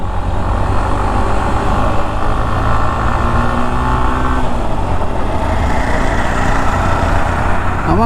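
A Hero Glamour X 125 motorcycle with a 125 cc engine hums steadily while being ridden, with a constant engine drone mixed with rushing wind noise and no talking.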